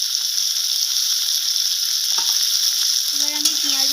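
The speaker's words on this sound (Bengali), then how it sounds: "এবার আমি পেঁয়াজের সাথে টমেটোগুলোকে একটু নাড়াচাড়া করে ভেজে নেব" Onion and chopped tomato fry in mustard oil with a steady hissing sizzle; near the end a few clinks and a brief stirring scrape sound over it.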